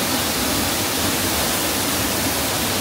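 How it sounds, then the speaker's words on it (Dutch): A powerful waterfall in Bali pours in a dense, unbroken roar of rushing water, loud and close, with no voices over it. "Ik vind watervallen sowieso altijd dat intense geluid"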